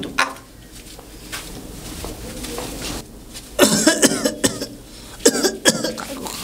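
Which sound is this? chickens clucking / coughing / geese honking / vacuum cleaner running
coughing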